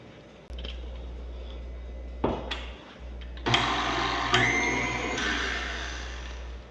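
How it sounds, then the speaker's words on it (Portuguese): An electric mixer beats cake batter for a bem casado cake, whipping it into a pale cream: a steady motor whir starts, dips briefly, then returns louder and fuller with a busy churning texture. "A gente vai bater bem até formar um creme claro."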